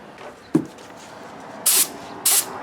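Spray gun test-spraying paint onto a cardboard box: two short, sharp hissing bursts of spray, each under a second, after a faint thump, in a quiet room.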